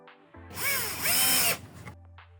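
A cordless drill whirs up close, driving a screw into an Ikea SLÄKT storage box in one short burst that rises in pitch and stops, with faint handling noises before and after.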